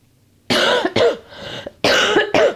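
A woman coughs in several harsh, close bursts, with short pauses between them and a quiet room behind.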